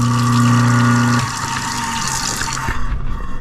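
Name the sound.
cold tap water running down garbage disposal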